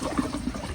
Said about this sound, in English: I'm gonna go ahead and turn the pressure all the way up, and it's going to flush for a second and then stop.